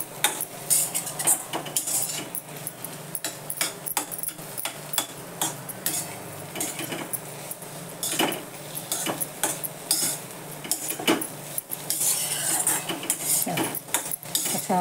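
Green chilies being sautéed and stirred for thecha in a pan, a busy run of scraping and clinking as a spoon works against metal, with a low sizzle underneath throughout.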